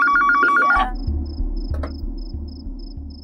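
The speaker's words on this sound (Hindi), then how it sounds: "लोकल कॉल की रिंग एसटीडी कॉल की रिंग से अलग होती है" An old landline telephone rings in a quiet room in an Indian TV crime drama, one bright electronic ring followed by faint repeating tones and soft low thuds, with no talking.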